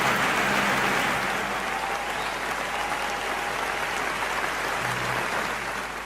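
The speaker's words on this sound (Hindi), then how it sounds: "आप एक बार जोरदार तालियां बजाकर" Steady, enthusiastic applause from a sizable crowd at a Hindi comic poetry gathering fills the whole stretch, dense and even, tapering slightly near the end.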